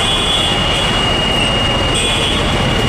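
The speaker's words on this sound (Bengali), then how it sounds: "রেলগেট পড়ে গেছে, কিছুক্ষণের মধ্যে রেল আসবে, এ পথটি ক্রস করবে" At the No. 2 level crossing in Narayanganj, Bangladesh, a close, loud train rolls past in a continuous roar, with high metallic wheel squeal running through it.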